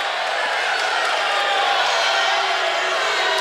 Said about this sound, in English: Crowd doesn't like that one